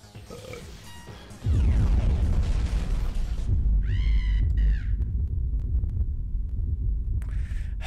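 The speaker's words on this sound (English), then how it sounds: "That sure is a lot of explosions." Video game explosions burst in loudly after a quieter opening and then roll on as a dense, sustained rumble, with a few sharp synthetic chirps and tones layered over the blasts.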